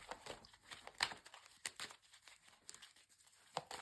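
Tarot cards shuffled close by, soft papery riffling and flicking in quick irregular bursts, fairly quiet, no voices.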